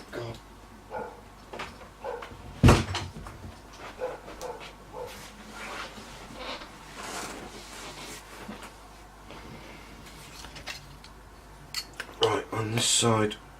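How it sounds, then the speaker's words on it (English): A pet dog barks and yips a few times indoors, mostly short sharp calls scattered through the clip, along with a loud knock or door bang and small clatter; a person speaks briefly in between. "Excuse me while I let the dog out."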